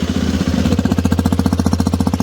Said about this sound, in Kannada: ಗಾಡಿ ಎಕ್ಸಾಸ್ಟ್ ನೋಟ್ ಕೇಳ್ರಿ